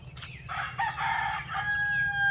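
A young purebred white Kelso rooster on a breeding farm gives a single close, loud crow with a drawn-out final note, preceded by a brief cluck.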